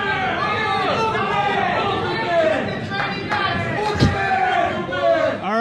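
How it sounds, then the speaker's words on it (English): Studio audience on a radio talk show yelling and chanting together, a loud rowdy babble of many voices with shouts and laughter close to the microphones. "if we could all stop yelling Booger Man"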